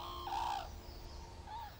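Japanese cranes give loud trumpeting calls, one strong call followed by a shorter, fainter one, heard alone without talk.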